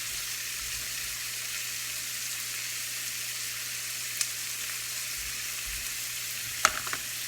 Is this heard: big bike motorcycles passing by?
no